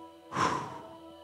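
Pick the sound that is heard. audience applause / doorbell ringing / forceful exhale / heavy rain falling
forceful exhale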